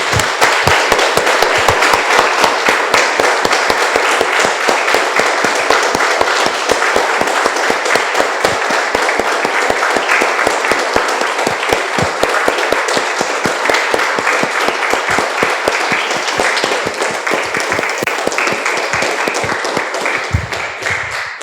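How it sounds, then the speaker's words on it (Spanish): A church congregation claps steadily and loudly for over twenty seconds after a spoken prayer, a dense, even wash of many hands with crisp individual claps standing out, sustained almost without change before tapering at the end. "Damos un aplauso, hermanos, al Señor."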